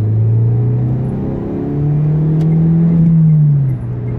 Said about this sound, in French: Accélération de la Twingo.